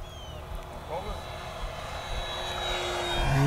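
An E-Flite Fw-190A 1.5m electric RC model warplane flies overhead with a steady high whine that grows louder as it approaches, while someone talks over it.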